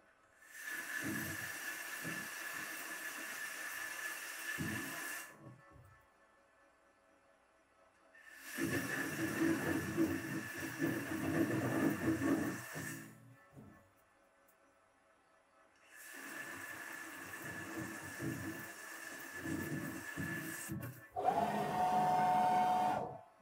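ProtoTRAK SLX CNC lathe making an ID grooving cut, running in three separate bursts of broadband machining noise several seconds long with quiet pauses between, then a short tonal beep at the end.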